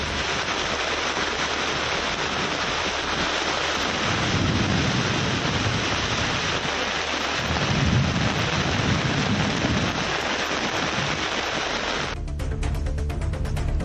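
Heavy rain pours steadily over Madurai city, a dense, close hiss that never lets up, while low rolls of thunder rumble beneath it in a few long swells.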